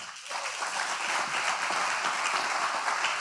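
A church congregation claps for the Lord during a sermon, steady moderate applause heard from the room, fairly even throughout.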